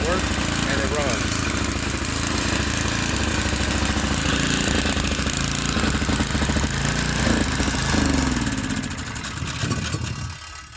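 A gas generator engine with a possible carburetor or fuel-starvation problem runs steadily and loudly close by for the whole stretch, its drone fading slightly near the end.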